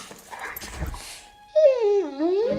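A family dog whimpers and whines in a rising and falling high-pitched moan, close and clear, after a short stretch of quieter background noise.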